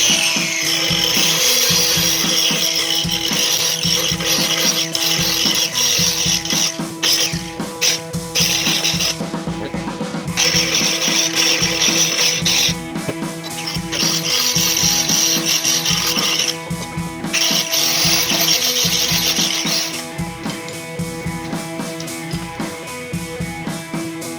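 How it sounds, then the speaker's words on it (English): An angle grinder works on a Ford 8N tractor exhaust part at a workbench, grinding loudly and continuously with repeated pulses and brief pauses as the tool presses and lifts off the metal. "I'm going to see if I can take the grinder and just kind of open that up a little."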